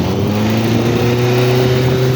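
Engine of a Russian piling machine with a 2.2-ton pile hammer, running steadily and loud at close range with a deep, even drone, no talk.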